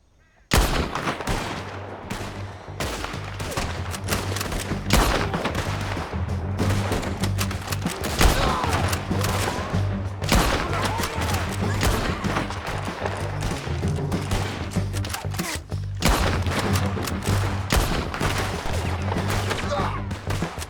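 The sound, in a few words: gunfire in the video game Red Dead Redemption 2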